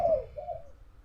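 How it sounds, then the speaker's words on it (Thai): One soft, low cooing note from a spotted dove around midday, brief and faint, with little else around it. "แอบถ่ายนะครับนกเขาขัน"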